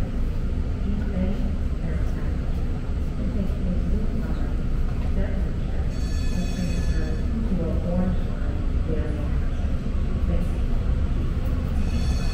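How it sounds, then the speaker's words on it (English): A BART Red Line train bound for Millbrae rolls along with a steady low rumble and rail noise inside the car, while a recorded announcement speaks over it. "This is a red line train to Millbrae."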